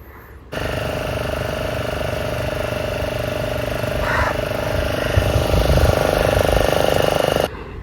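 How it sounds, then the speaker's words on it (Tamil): A fishing boat's Lambadi engine runs steadily with a fast, chugging mechanical rhythm, loud and close, starting abruptly and cutting off near the end. "இன்ஜின் எப்படி இருக்குன்னு பாருங்கள் இது என்ன இன்ஜின் தெரியுதா லம்பாடி இன்ஜின்"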